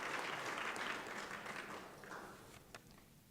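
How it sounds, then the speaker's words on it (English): Applause from a crowd at a housing news conference, dense and steady at first and then thinning and fading toward the end, with a few louder individual claps near the close. "let's give them both a round of applause"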